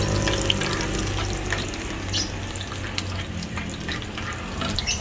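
Chopped garlic sizzles and fries in a pan for a vegetable stir-fry, a steady crackling hiss with occasional spatula scrapes and stirring clicks, no talking.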